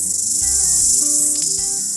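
A cicada in an Auckland backyard calls with a steady, loud, continuous high buzzing drone heard close by, alone and without voices.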